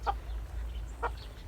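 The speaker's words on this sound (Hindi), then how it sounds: "आ मुर्गा चेक करो" A rooster kept among farm livestock gives two short, clipped clucks spaced about a second apart over a low, steady background hum.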